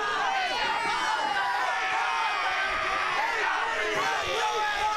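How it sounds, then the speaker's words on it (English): Spectators at a US Open Cup qualifying soccer match between Kalonji Pro-Profile and Potros FC keep up a steady crowd roar with scattered shouts. The sound is moderately distant and continuous, with commentary over it. "You can hear the crowd loving the physicality of this game."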